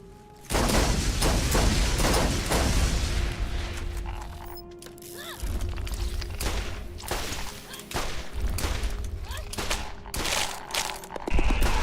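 Rapid gunfire rings out in Borderlands while the player jump-shoots an enemy's back, bursts of clattering shots and mechanical weapon noise repeating loudly across the fight with a brief lull midway.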